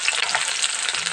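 Green chili hits hot oil already popping with panch phoron spices, a bright, close, continuous sizzle lasting about a second.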